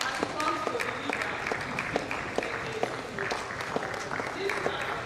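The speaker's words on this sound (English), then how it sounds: "Keep clapping. Sustain the clap." Conference audience at a college of management sciences event applauding steadily throughout, a dense continuous patter of clapping with a voice talking over it.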